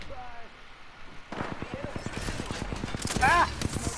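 Rapid bursts of video game gunfire in a multiplayer shooter, a dense run of sharp repeated shots that starts partway through after a quieter opening, with a brief whistling tone near the end.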